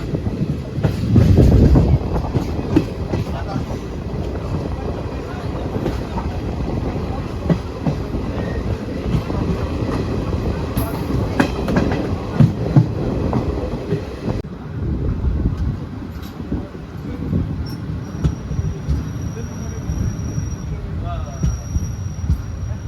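A train rumbles along the rails with rhythmic clickety-clack and some wind buffeting the microphone, loud and close, easing off slightly in the later part; heard from a general coach between Junagadh and Kukavav.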